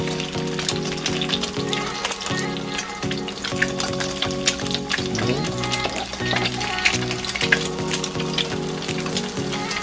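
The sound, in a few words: egg frying in oil in a pan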